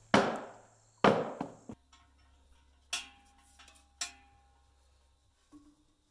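Firewood being chopped for winter near a barn: several sharp, separate woody cracks spaced irregularly, loud and close, with quiet pauses and faint ringing between strikes.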